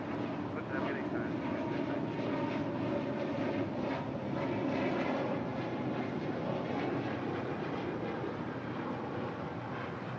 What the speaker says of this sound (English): That was Spirit Airlines Flight 266 heading to Philadelphia in an A320neo.